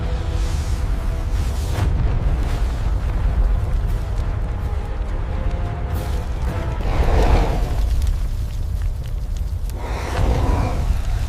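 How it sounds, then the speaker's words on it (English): A red-hot boulder hurled at a beast blows up midair, a continuous deep rumbling roar with heavier booming surges near the end, loud and cinematic with no voices. "He grabs a red-hot boulder and hurls it at the beast. It explodes midair"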